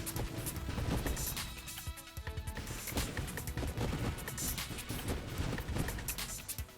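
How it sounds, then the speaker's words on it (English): Missiles fire repeatedly in a video game, a rapid run of loud, punchy launches and impacts that keeps up throughout with no talk over it. "These are some awesome missiles right here."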